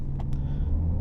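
Brief close burst of a 2025 Jaecoo J7 with a 1.6-litre turbo engine pulling away in sport mode, a low engine drone and road rumble rising in pitch, with a couple of short clicks near the start.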